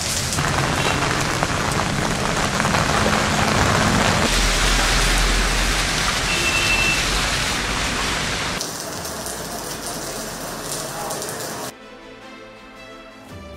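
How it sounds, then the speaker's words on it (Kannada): Heavy evening rain pours down in Bengaluru, a steady dense hiss that stays loud for most of the stretch, thins somewhat toward the end and then drops to a quieter patter of drops. "ಸಂಜೆ ಮಳೆಯೋ ಮಳೆ."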